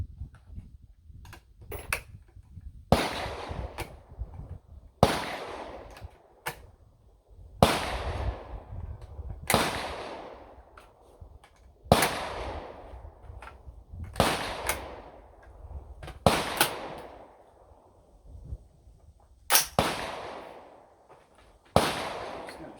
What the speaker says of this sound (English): Shoot 10 rounds of some factory Hornady through the P-mag, and then I'm going to shoot 10 rounds through the metal mag.